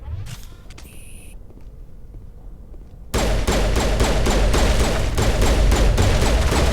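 Rapid pistol fire crackles in Mass Effect Legendary Edition, a dense, loud run of repeated shots kicking in abruptly partway through after a quieter stretch of mechanical clicks.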